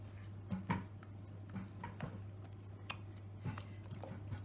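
Stove-top playdough mixture is stirred in a pot, with soft scraping, squishy thuds and light knocks against the pan at an irregular pace, quiet over a steady low hum.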